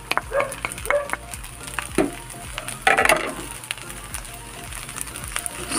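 Fried rice with spring onion leaves stir-frying in a pan, close and lively sizzling with scattered scrapes and clatters of the utensil against the pan, no speech.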